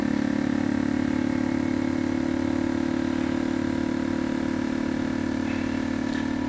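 The oil-less pump of an Anova Precision chamber vacuum sealer drones steadily and loudly close by with a constant mechanical hum, nearly unchanging throughout, with a faint squeak near the end.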